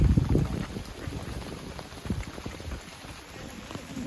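Steady heavy rain patters and drums on a surface throughout over a rice paddy field, dense and close, with no voices.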